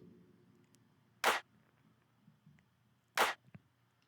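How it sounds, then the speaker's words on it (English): Drum machine clap sample from a pop-song remake, two crisp isolated claps about two seconds apart, sharp and bright over a quiet low backing. "later on in the verse, a clap comes in as well."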